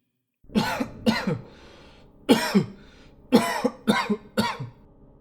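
A person coughs close up in several harsh bursts, two quick coughs, then a single one, then a rapid cluster of three, with quiet between.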